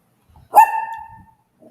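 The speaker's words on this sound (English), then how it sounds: "What are you barking at?" A single sharp bark from a nearby dog at a house in Merida, Yucatan, Mexico, ringing briefly before fading, with quiet surroundings.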